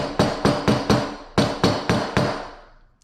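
Eight sharp, close strikes of a rawhide mallet on a metal tube rivet, each ringing briefly before fading, in an uneven rhythm with a short pause midway, with no talk.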